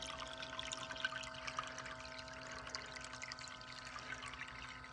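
Water trickles and pours steadily through a gold sluice box outdoors, a soft continuous flow with faint splashes throughout.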